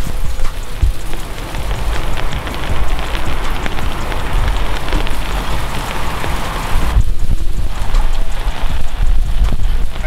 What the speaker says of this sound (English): Of course, it starts raining right now